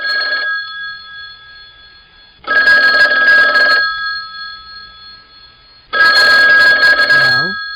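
A telephone rings for an incoming call to a late-night call-in show, sounding in two long bursts of bright, steady ringing separated by a pause, near and loud with a low background hum between the rings.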